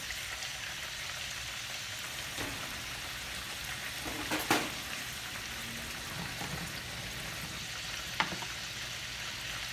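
Green beans tossed into a hot frying pan with tofu make a steady, close sizzle and fry, with a few brief clinks and stirring knocks standing out over the crackle.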